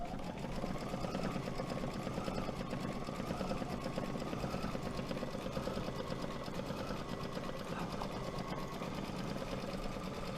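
An embroidery machine sews a decorative stitch with a continuous rapid mechanical chatter and hum, steady and close for the whole stretch with no talking.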